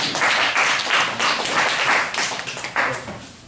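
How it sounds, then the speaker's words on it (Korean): A Korean church congregation gives a short round of applause at a Sunday service to welcome two first-time middle-school students, with scattered, moderately loud hand claps that swell and thin in uneven bursts. "두 명 박수로 환영했으면 좋겠습니다"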